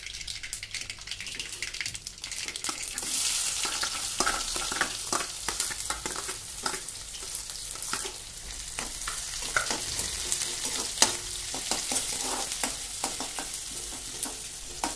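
Potato bhaji sizzles and fries in a hot spiced tempering, a steady close crackle with repeated scraping stirs throughout.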